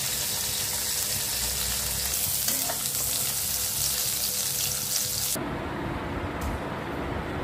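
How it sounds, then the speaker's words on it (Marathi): Steady loud sizzling of paneer frying in a pan, a continuous crackling hiss that shifts slightly in tone partway through. "एका पॅन मध्ये 1 चम्मच थोडा पनीर टाकून फ्राय करून घ्यायचं"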